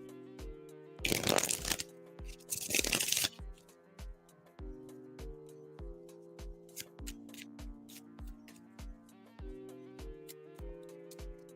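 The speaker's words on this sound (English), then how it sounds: "I was shuffling for you for this question" Tarot cards are shuffled in two quick, loud riffling bursts early on, followed by scattered soft taps and clicks over a quiet, steady musical drone.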